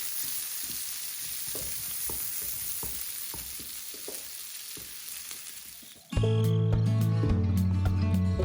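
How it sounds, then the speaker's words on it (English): Shallots fry and brown in a pan with a bright, continuous sizzle and light stirring taps for about six seconds, then music abruptly takes over. "what I want is for these shallots to begin to brown just slightly"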